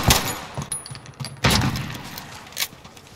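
A video-game machine gun with a 100-round magazine, heard as short bursts of sharp shots with clinking between them, several separate volleys at close range, no voices.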